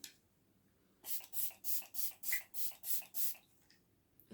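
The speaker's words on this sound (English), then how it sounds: "Anyway, so let's spray this on." An e.l.f. makeup setting spray bottle is pumped eight times in a quick, steady rhythm, each close, bright misty hiss spaced about a third of a second apart.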